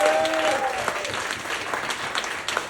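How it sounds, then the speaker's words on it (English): An open-mic comedy audience applauds a comedian with a dense, steady burst of clapping close by that tapers slightly toward the end. "give Corey another round of applause"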